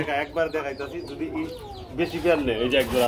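Pigeons at a market stall cooing in short, repeated throaty calls, close and clear, with a voice talking alongside.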